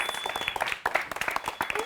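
Audience applause greeting a singer as she is introduced at a live performance, steady clapping from a crowd with voices mixed in over the short burst.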